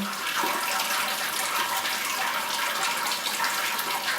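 Sparge water pours onto the grain bed in a Grainfather all-in-one brewing system, giving a steady, close, splashing trickle that runs continuously without a break.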